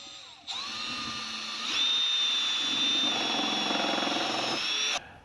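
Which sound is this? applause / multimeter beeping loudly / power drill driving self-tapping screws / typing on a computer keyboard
power drill driving self-tapping screws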